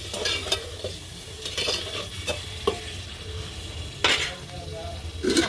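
Tomato paste frying in a pan on a wood-fire stove, well cooked down for fish curry: a steady low sizzle broken by repeated scraping stirs and spoon clinks against the pot, close by.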